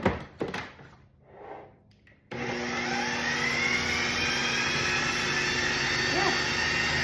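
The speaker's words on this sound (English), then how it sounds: "So I put all these herbs in the food processor, and then we're just gonna chop it slightly, like pulse it." A food processor pulses a batch of fresh herbs, its motor starting abruptly after a couple of soft knocks and then running as a loud, steady whir with a high hiss, close up and continuous.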